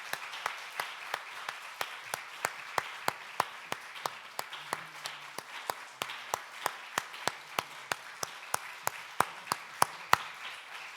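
Steady rhythmic clapping in a church sanctuary during a pastor's installation ceremony: a single sharp, evenly spaced clap sounds about three times a second, close and distinct, over a quiet background with faint murmurs.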